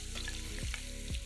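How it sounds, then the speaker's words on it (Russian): Chopped onion frying in heated butter in a heavy-bottomed pan, a continuous close hiss and crackle with a low hum beneath, quiet and unbroken, no voices. "В нагретое масло засыпаем нарезанный лук."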